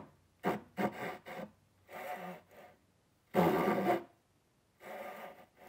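A handsaw cuts through wood in separate bursts of rasping strokes, a few quick passes and then longer ones with pauses between them, close and loud with no voices.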